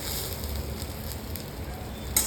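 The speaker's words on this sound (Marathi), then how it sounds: "हा कांदा भाजून ह्यात टाकते मी" Roasted onion is added to a coconut and coriander black masala spice mixture, giving a steady, close frying sizzle throughout and a sharp crackle near the end.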